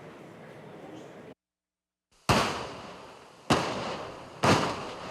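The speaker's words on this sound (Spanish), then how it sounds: "Con una detonación controlada en el kilómetro 83 de la vía Loac-Santo Domingo, 6 enormes rocas fueron despejadas con dinamita" Controlled dynamite blasts clear huge rocks from a rain-damaged mountain highway, three heavy explosive booms in succession after a moment of silence, each loud with a decaying rumble, following a news voice.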